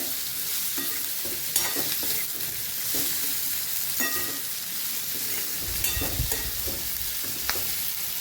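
Raw papaya pieces and chillies sautéing in hot oil give a steady sizzle alone, with scraping stir strokes at irregular intervals and a brief louder hiss of frying near the end.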